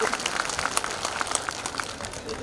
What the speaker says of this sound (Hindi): ताली बजाओ इनके लिए जोरदार।